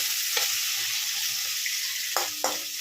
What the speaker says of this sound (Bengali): আমি আলুগুলোকে ভেজে নিচ্ছি।